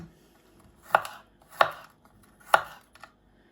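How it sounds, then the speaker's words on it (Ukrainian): A kitchen knife slices hot peppers into thin pieces on a cutting board, giving three crisp, separate chops in a quiet room. "Так, ріжемо пластиночками."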